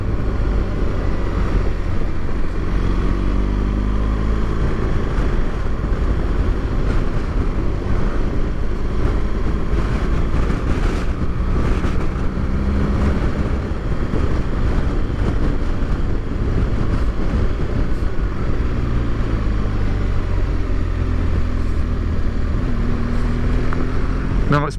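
A BMW R1200GS Rallye motorcycle rides along a quiet country road, its steady engine drone mixed with heavy wind rush, while someone talks over it throughout.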